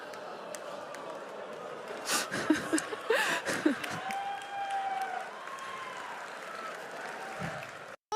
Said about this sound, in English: you heard some people cheering, you heard some claps